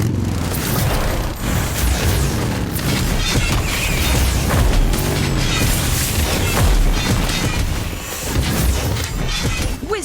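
Booming magical explosions and crashes from a spell in Harry Potter: Magic Awakened, loud and continuous with layered blasts and shattering effects throughout.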